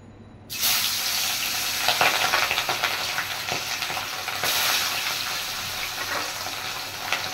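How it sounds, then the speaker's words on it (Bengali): Hilsa fish pieces, coated in salt and turmeric, drop into hot oil with a sudden loud sizzle that continues as a dense, close hiss, with occasional sharper crackles as the pieces are moved. "এবার মাছগুলো ভেজে নেব।"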